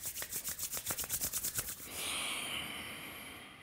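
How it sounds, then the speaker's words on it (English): Hands rubbed briskly together in a steady, rhythmic back-and-forth of about a dozen close, dry swishes, then settling into a softer sustained hiss of friction. No talking. "Let's rub the hands together"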